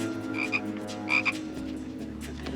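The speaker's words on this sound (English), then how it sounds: "That frog in your bag." A frog croaks from inside a bag in two short bursts about a second apart, fairly close, over a steady low background hum.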